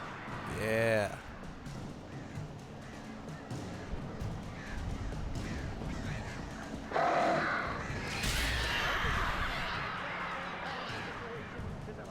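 Crows caw in the Alan Wake video game, a short burst of harsh calls early on over a dense ambient game soundscape, with other noises later.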